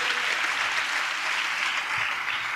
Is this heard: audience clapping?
yes